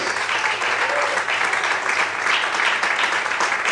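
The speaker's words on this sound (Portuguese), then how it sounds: "Quantos podem aplaudir e exaltar ao Senhor nessa noite?" Congregation at an evening church service bursts into sustained applause, an even, dense wall of clapping that fills the room from start to finish.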